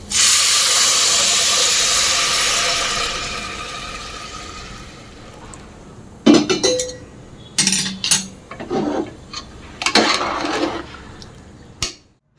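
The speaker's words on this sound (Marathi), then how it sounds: "त्यामध्ये आता आपण पाणी उकळलेलं टाकून घेऊ" A loud steady hiss as boiling water is poured into rice frying in a hot pan, fading over several seconds, followed by scattered clinks and scraping of utensils.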